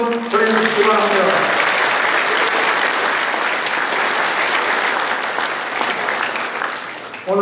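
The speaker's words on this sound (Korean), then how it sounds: "당원 동지 여러분 큰 격려의 박수 한번 보내주시기 바랍니다" Party members at a People Power Party South Chungcheong rally give sustained, dense applause that fills the hall, loud and steady before tapering at the end, with a voice briefly heard over the start.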